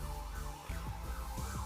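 Patrolling vehicle's siren outside, a wavering wail continuing with low rumbling thumps underneath, steady and fairly loud.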